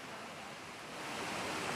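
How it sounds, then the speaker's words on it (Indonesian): A waterfall at the Waituran bathing spot in Mangge, Majene, West Sulawesi, gives a steady broadband rushing roar that swells slightly toward the end. No voices are heard. "air terjun yang cantik dan perawan ini"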